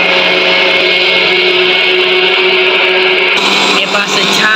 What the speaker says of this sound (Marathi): हे पहा, अशा प्रकारे मिक्सरमधून काढायचं.